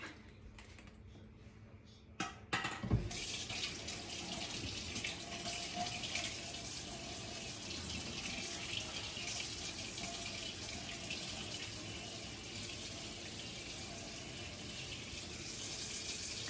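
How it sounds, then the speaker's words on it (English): Hot water running from a tap into a container, a steady rushing splash that starts after a few clicks and knocks and continues evenly at close range. "And then I'm gonna add some hot water and I'll be back."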